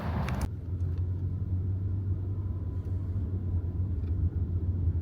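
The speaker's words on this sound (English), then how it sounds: "Crazy car here" A car engine rumbles steadily with a deep, continuous low drone throughout, fairly close, on a street in Dubai with no talk over it.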